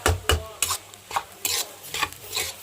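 Chili powder and garlic stirred into spices frying in a pan, close, rhythmic scraping strokes of a spoon against the pan's bottom, repeated about every half second over a soft sizzle, with no voices.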